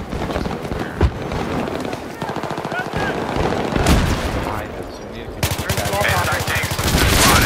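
Heavy gunfire crackles in a large-scale World War II shooter match on a bazaar map, with sustained automatic bursts and scattered shots, some near and some distant, running beneath teammates' radio chatter throughout.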